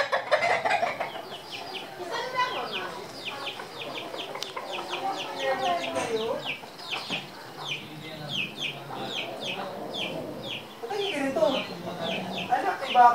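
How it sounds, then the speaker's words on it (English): Repeated clucking and squawking from several chickens and roosters close by in the Philippines, with people talking intermittently over the birds. "You roosters."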